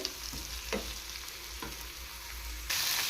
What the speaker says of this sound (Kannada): ನುಗ್ಗೆ ಸೊಪ್ಪು ಚೆನ್ನಾಗಿ ಫ್ರೈ ಆಗಬೇಕು